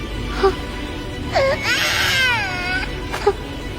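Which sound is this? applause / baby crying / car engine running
baby crying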